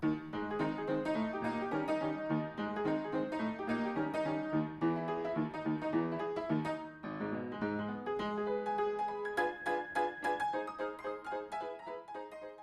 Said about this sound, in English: Maple Leaf Rag, one of the most famous pieces in American music history.